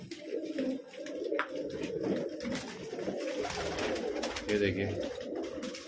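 Perched pigeons coo in low, continuous throaty murmurs close by, with several birds overlapping and someone speaking briefly over them.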